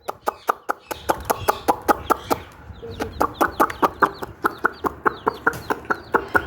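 Chicks and chickens cluck and peep in a steady rhythm of short, sharp calls repeating close by throughout, over a low background hum.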